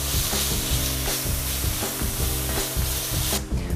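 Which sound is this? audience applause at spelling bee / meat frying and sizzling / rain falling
meat frying and sizzling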